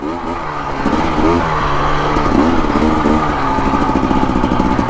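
Husqvarna TE250 or TE300 dirt bike engine in first gear on a forest single track near Flagstaff, Arizona, a close, buzzy two-stroke note rising and falling with repeated throttle blips.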